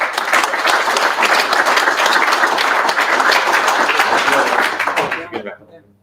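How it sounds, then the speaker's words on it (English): A round of applause from a data engineering meetup audience in Sydney, dense and loud clapping that continues steadily for several seconds before tapering off to a few last claps. "But round of applause."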